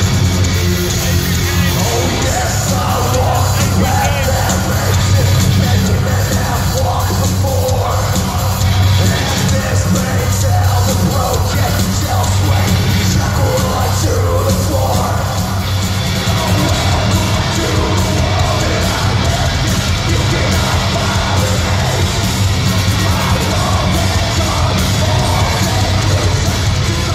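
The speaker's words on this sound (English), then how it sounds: "As you would expect, this got a real good response from the crowd, which was great to hear." A concert crowd at a gig at the London Roundhouse, a dense, loud roar of cheering and yelling, with whoops rising out of the sustained noise and no break for the whole stretch.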